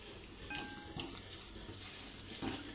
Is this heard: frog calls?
no